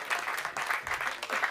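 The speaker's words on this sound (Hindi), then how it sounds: "आप जोरदार तालियों से उनका आमंत्रण करें" A theatre audience at a Hindi comedy poetry gathering breaks into loud, sustained applause to welcome a poet to the stage, dense clapping running steadily throughout with no talk over it.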